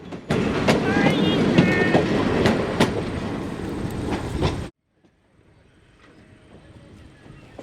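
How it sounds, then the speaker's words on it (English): EMD SD40-2 diesel locomotive, 3,000 horsepower, in original 1974 paint, pulling a coach train: loud, close rumble with rolling wheel clatter and sharp clicks for about four and a half seconds, then abrupt near silence with faint distant noise. "EMD SD40-2 is next, pulling the coach train"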